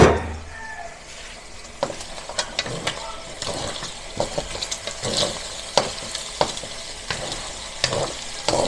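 Garlic and onion are stirred with browning pork in a pan for a vegetable sauté with squash, a steady sizzle close up, broken by regular scraping clinks of a spatula.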